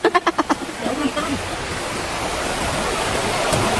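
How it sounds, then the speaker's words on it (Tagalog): A river flows steadily nearby in a rural Philippine setting, its continuous broadband rush rising slightly over several seconds after a few rhythmic thumps at the start. "May ilog dito po. Kami ng ilog."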